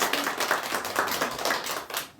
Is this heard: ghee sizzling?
no